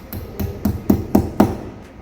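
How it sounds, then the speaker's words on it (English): Hammer strikes while installing a non-reflective board and pen tray, five or six sharp, evenly spaced knocks about a quarter second apart, close and fairly loud, with no talking. "you can use the hammer, or you can use the hammer and the star"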